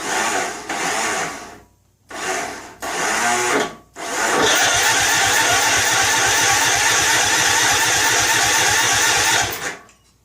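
Small Snapper lawn mower engine with the choke set, sputtering in two short bursts, cutting out, then catching and running steadily at a loud, close, even idle for about six seconds before stopping.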